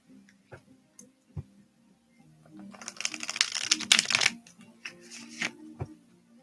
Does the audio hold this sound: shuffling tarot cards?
yes